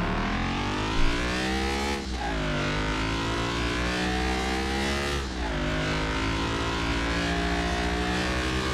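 A Nissan 370Z Nismo engine in the video game Car Mechanic Simulator 2021 drones steadily at high revs, with two quick gear shifts dropping the pitch before it climbs again, continuous and loud.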